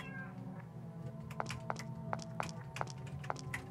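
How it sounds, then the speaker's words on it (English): A cat meows in the Mad Father video game amid a run of sharp clicks and taps over a low droning backdrop, with brief, fairly quiet calls. "The cat is dead. Then why did it just meow?"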